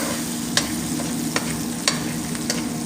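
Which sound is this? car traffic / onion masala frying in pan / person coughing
onion masala frying in pan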